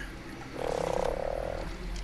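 A frog croaks in ARK: Survival Evolved, one steady, buzzing croak about a second long that stands out clearly over a low game ambience, with no voices.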